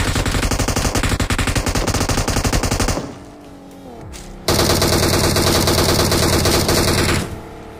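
Sustained machine-gun fire in the video game BGMI rattles loudly in rapid rhythmic bursts, pausing briefly before another long volley that cuts off abruptly.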